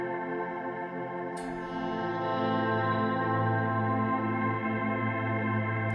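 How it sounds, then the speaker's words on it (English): Sustained electric guitar chord swell run through a Big Sky reverb pedal, a long shimmering wash with a bright high swirl entering after the chord is struck, steady and close with no talking. "I'm just going to add a bit of reverb onto that with the big sky."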